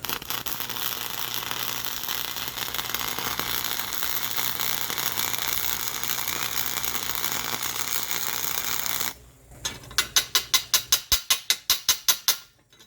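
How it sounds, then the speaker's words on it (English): Chicago Electric AC flux-core welder running 0.030 wire at max current and wire speed 8 on 1/8-inch steel, giving a harsh, steady, spattering crackle for about nine seconds, then a sharp stop followed by a fast run of rhythmic mechanical clicks. "This is a AC welder and Flux Core, but there is a lot of splatter."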